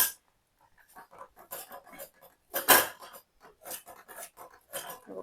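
A masher works through soft cooked, salted vegetables in a metal pot, making repeated close squelching knocks and scrapes in an uneven rhythm, with one louder clatter midway.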